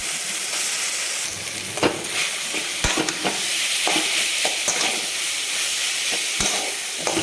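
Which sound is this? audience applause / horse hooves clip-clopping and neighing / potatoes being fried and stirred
potatoes being fried and stirred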